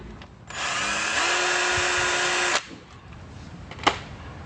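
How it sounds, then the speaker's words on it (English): A power drill whirs steadily for about two seconds, pitch rising slightly as it bites through while assembling a Trekk-Mate CS08, then stops; a sharp tap follows afterward. "we just need to drill a hole through into here"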